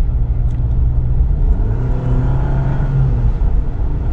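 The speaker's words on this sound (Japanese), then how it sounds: "今踏み込んでからまあコンマ5秒ぐらいちょっとレスポンスの遅れがまああります" A Jeep Wrangler with a 2-liter inline-four turbo engine accelerates hard, a steady close engine drone and rising whir filling the cabin throughout, with no talking.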